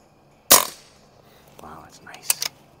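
A single sharp shot from a Crosman Icon air rifle firing H&N .22 hunting pellets outdoors at dusk, a crisp crack with brief decay, followed by faint soft knocks and clicks a couple of seconds later.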